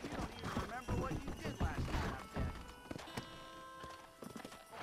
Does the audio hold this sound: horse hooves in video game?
yes